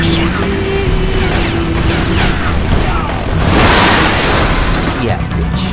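Gunfire in the video game Tomb Raider Legend, Peru level: repeated shots and booming bursts over game music, loud and close, with a louder blast midway.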